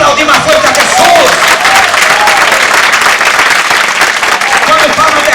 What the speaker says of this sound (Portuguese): Vamos a aplaudir más fuerte a Jesús.